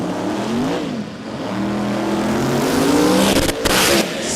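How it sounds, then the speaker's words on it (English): A sports compact drag car at an Australian drag racing meet roars loudly down the strip, its engine note sustained and climbing through the gears with brief dips, close and continuous with no talk over it. "That Noonan does sound good singing through the traps"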